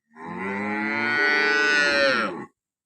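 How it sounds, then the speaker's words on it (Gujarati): A single cow lets out one long, loud, close moo lasting over two seconds, then the sound cuts off; the animal is one of two cows at a village in Tharad taluka, Banaskantha district, Gujarat. "આજે બે ગાય આવી છે એક કારિયા છે અને એક આરિયા છે"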